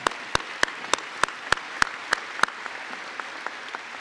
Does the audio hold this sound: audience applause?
yes